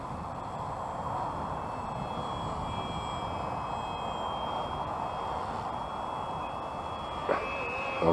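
A Flywing 450 v2 RC helicopter flies continuously, its rotor and motor giving a steady whirring drone with a high whine at moderate distance for several seconds.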